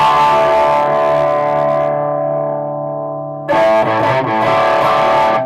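Electric guitar through a Fulltone Plimsoul pedal on its distortion channel: a loud sustained distorted chord rings and slowly decays, then a fresh gritty strum cuts in and rings on.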